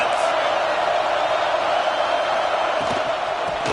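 A dense, constant roar from a stadium crowd in a college football video game with Oregon, steady and loud without pause.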